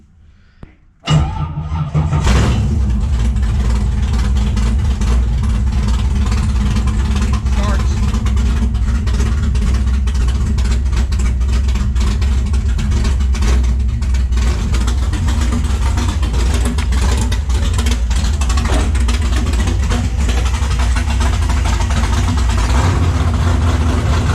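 Race car engine fires up after a brief crank and then runs steadily and loudly, a dense continuous low rumble held throughout with no pauses.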